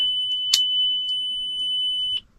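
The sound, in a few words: Lamborghini Gallardo LP550-2 warning chime dinging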